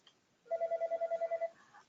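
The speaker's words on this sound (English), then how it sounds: "Sorry about the phone." A telephone rings in a quick burst of about ten even electronic pulses, fairly faint and alone against a quiet room during a webinar.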